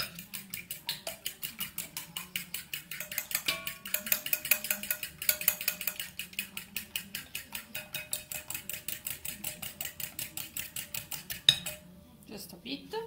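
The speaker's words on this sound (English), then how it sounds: "and we whisk" Rapid, even clinking of a whisk against a bowl, beating ingredients seasoned with salt and pepper for butternut squash arancini. The strokes run steady and close for about thirteen seconds with no talk, briefly pausing near the end.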